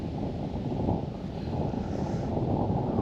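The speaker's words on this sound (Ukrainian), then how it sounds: "вітер дме" Steady low rumbling wind buffeting the microphone while fishing outdoors, continuous and fairly loud throughout with no voices.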